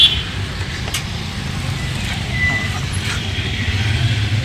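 A police car pulls into a police station beside a busy town junction, its engine rumble blending into steady road traffic noise with a faint brake hiss, heard from close by.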